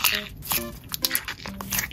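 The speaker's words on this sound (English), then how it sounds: "It's a crunchy slime that sounds like frogs croaking and look like frog spawn." Crunchy frog-spawn-style slime squeezed by hand up close, giving rapid crackling pops and squelches in short clustered bursts that sound faintly like croaking, with no talking.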